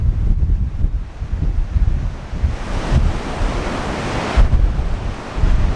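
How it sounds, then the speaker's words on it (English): A strong offshore wind gusts across the microphone while sea surf churns at Trebarwith Strand on the north coast of Cornwall. Heavy low rumbling buffets rise and fall under a constant wash of breaking waves, with no voices. "The wind was blowing from offshore and it was churning the sea up into a white foam"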